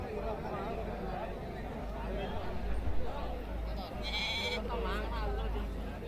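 Sheep lambs bleating at a busy goat market in Mecheri, Salem, several thin calls rising over a steady crowd babble and people chatting nearby.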